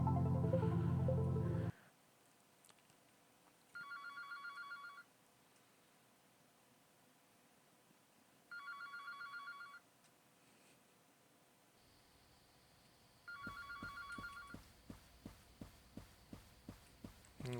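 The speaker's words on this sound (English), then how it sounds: "There's the phone." A telephone rings three times in a quiet room in the Anthology of the Killer game, each ring a bright trilling burst separated by long gaps, followed by soft thumping beats.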